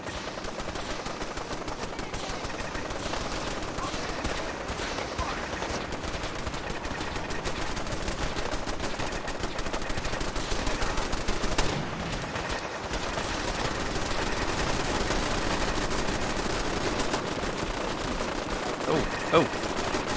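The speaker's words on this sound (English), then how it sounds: "that minigun was tearing me up" Sustained minigun fire and other gunfire from a final battle in the video game Fallout 4, a dense continuous roar of rapid shots running throughout with occasional louder bursts, with a voice talking over it.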